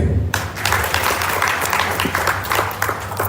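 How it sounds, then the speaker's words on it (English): At a member engagement forum in Katima Mulilo, a room of people claps for a presenter, a fairly close burst of mixed handclaps that starts abruptly and carries on evenly to the end. "Let's clap for Harry"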